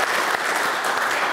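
A church congregation claps steadily for birthday well-wishers during a Sunday service, a dense, even wash of hands with no voices over it.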